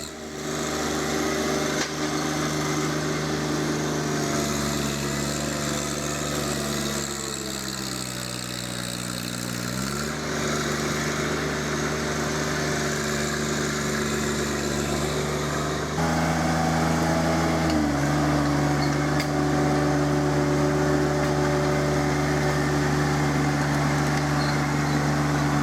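A John Deere 1025R compact tractor runs steadily with a Land Pride soil pulverizer attached, a close, continuous engine drone that dips and shifts pitch around midway, then picks up again and holds firm to the end.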